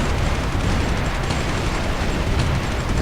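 Dense, continuous rumbling blasts of artillery fire in the strategy video game Supreme Ruler 2020, loud and unbroken for a few seconds with overlapping booms.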